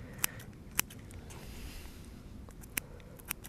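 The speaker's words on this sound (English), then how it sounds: "So I'm going to cut all these up just like this." Scissors snip through sprat and whitebait fishing baits in four sharp, isolated cuts spread across a quiet background, close and crisp with no talking.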